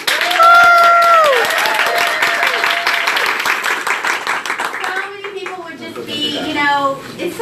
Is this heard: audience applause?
yes